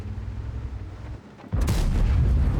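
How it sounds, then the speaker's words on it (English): In World of Tanks, engine and battle rumble hum low, then a heavy artillery shell strikes with a loud, deep boom that rolls on and lingers. "Oh, artillery."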